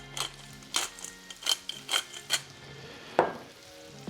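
Onions, beef, black pepper and chili flakes fry in a pan while a utensil stirs and scrapes in a regular rhythm of short bursts, with one sharper knock of metal near the end.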